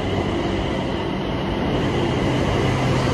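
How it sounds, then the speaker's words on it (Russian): Bangkok's elevated metro train runs steadily, heard from inside as a loud, continuous rumble with a constant hiss and no pauses. "Еду до последней станции на наземном метро."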